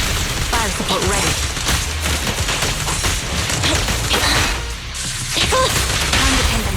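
Dense, continuous fire-support gunfire from the video game Zenless Zone Zero crackles and booms in a loud barrage, with a voice speaking briefly over the shooting.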